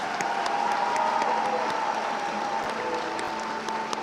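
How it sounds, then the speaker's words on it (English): Steady applause from a large crowd at a college commencement ceremony, continuous and even throughout, with a faint murmur of voices in the background. "Let's give a round of applause to our baccalaureate candidates."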